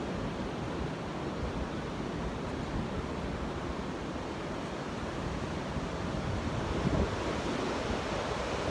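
Ocean surf rolls onto the beach at Porto de Galinhas in a steady, broad wash of breaking waves, mixed with some wind buffeting the microphone, constant and fairly loud without speech.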